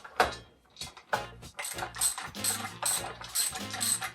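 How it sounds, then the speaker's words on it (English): A 9/16 wrench ratchets as it tightens a neoprene bolt nut, giving quick bursts of close metallic clicking in short irregular runs with brief pauses between them. "Here we're going to use the 9/16 set of wrenches."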